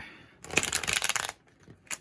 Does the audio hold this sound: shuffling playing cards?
yes